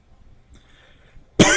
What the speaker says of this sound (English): I thought I had gotten rid of this cough.